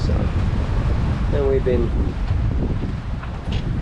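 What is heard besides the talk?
gusting wind at sea on a sailing boat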